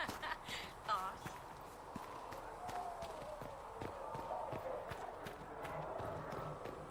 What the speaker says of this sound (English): Scouts are getting all of Master Dennett's best horses.